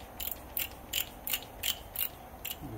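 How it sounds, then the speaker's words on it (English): Torque wrench ratcheting on a rear wheel hub bearing job: seven evenly spaced metallic clicks, each crisp and close, repeating about every third of a second over a quiet garage background with no talk. "Get back off on my torque wrench."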